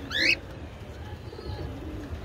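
Pigeons or doves give a short, fairly close call at the start, then fade into a soft, low background murmur.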